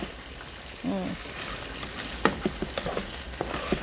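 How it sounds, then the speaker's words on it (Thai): Fish meat being stir-fried with curry paste in a pan, a soft sizzle with scattered clinks and scrapes of stirring, close by and fairly quiet. "นี่คือเนื้อปลาแล้วก็จะผัดไปเรื่อย ๆนะ ผัดไปเรื่อย ๆ รวมกับพริกแกง"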